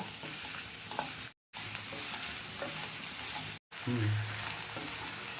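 Onion and tomato sautéing in a pan for chutney with salt, a steady soft sizzle broken by occasional stirring scrapes, close and quiet, interrupted by two brief silent cuts.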